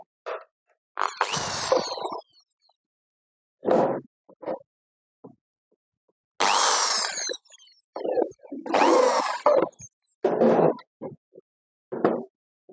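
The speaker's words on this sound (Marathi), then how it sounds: "हे ड्रिलिंग मशीन यावर आपण लहान ड्रिल लावलेलं आहे" An electric drill with a small bit whirs in several short bursts with pauses between, driving half-inch screws into wood while assembling a seed box, close up, along with scattered clunks and handling noises.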